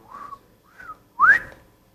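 A person whistles an imitation of a bobwhite quail call: two soft short notes followed by a louder, sharply rising whistle, close and alone.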